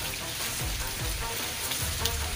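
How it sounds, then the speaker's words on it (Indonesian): Steady rain falling in a wild swamp forest, a dense, continuous hiss of drops on surfaces at even loudness throughout, with no talk. "Wah, Ini hujan ya."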